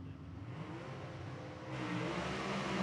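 Southeast Gassers drag race cars, Chevy against Ford, roar at Shadyside Dragway as a distant engine drone rises and swells louder partway through, accelerating steadily.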